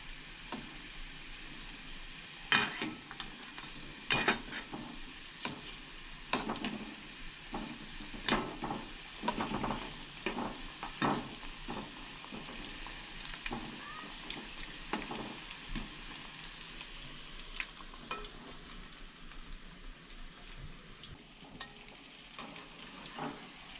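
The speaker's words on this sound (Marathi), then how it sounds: "हे पळयात हांगसर आमचे मोदक फ्राय करून जाले" Modak dumplings fry in oil in a pan with a soft, steady crackle and sizzle. Occasional louder pops and stirring clatter break through, heard faintly and at a distance.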